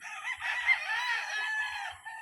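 A rooster crows one long, drawn-out call, clear and fairly close, with no other sounds around it.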